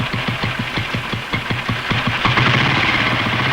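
A motor running close by with a loud, rapid rhythmic knocking thump that smooths into a steadier drone toward the end, no voices over it.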